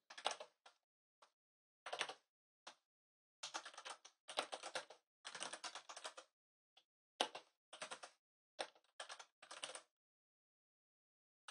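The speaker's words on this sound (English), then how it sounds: "So I'm going to go over here and I'm going to type out some text." Typing text on a computer keyboard while editing in Emacs: quick close bursts of key clacks in uneven clusters with short pauses between, fairly faint and alone, with no one speaking.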